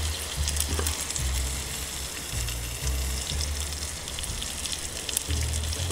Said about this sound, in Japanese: 水っていうかお湯がですね、沸騰して、まあ、だいぶ飛んでます。